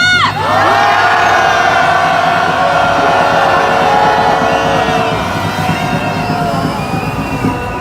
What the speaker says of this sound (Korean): 경찰에게 분노의 함성 다시 한번 질러보겠습니다.